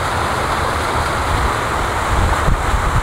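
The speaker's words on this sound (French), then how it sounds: "sa jolie petite cascade qui se déverse dans le bassin principal" A pretty little cascade spills into the main basin of a water garden beside a filtering marsh, a continuous close rushing and splashing wash that stays steady for the whole moment with no voices.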